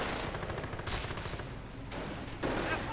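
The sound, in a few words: gunfire in a WWII strategy video game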